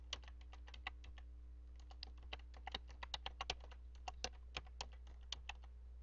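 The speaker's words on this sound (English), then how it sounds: "and I will type the website in." Steady typing on a computer keyboard as a website address is entered, many light clicks in uneven bursts over six seconds, close but quiet above a low electrical hum, with no voices.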